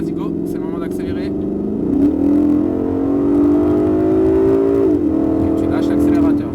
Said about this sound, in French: D'accord, ligne droite, vas-y, go. C'est le moment d'accélérer.